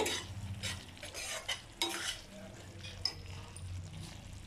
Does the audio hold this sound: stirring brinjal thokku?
yes